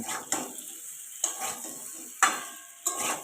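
A spoon stirs pumpkin chokka after salt is added, scraping against a pan in four distinct strokes with soft sizzling between them, close and fairly quiet.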